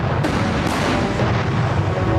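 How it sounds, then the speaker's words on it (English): Massed cannon fire from Napoleon's Grand Battery of eighty guns at Waterloo, a dense continuous rumble of booming artillery with sharper reports breaking through, loud and unrelenting. "80 guns of Napoleon's Grand Battery opened fire."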